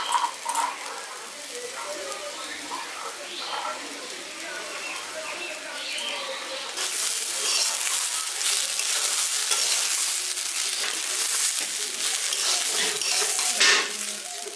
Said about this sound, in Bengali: মটরটা দিয়ে ভালো করে মিশিয়ে দিয়েছি।